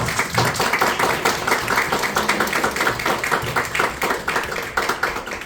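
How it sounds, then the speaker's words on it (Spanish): Audience applause for an author at a Chilean book event, a dense steady patter of many hands clapping that keeps up at an even level throughout. "Le damos un gran aplauso a don Maximiliano Basoa López."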